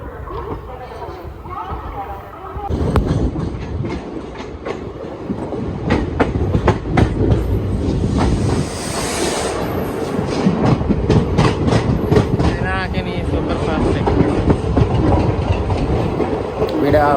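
Krishna Express running in sleeper class, a steady loud rumble with rhythmic clickety-clack of the wheels building after a quieter start, continuing throughout with faint voices in the coach.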